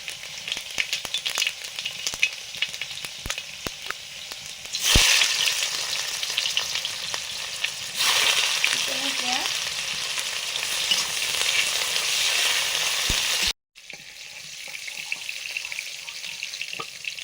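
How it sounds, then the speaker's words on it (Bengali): Cauliflower and potato pieces fry in mustard oil with a steady, close hiss and sizzle that swells partway through and continues alone, cutting off briefly near the end. "ফুলকপি আলুগুলো ভেজে নিচ্ছি"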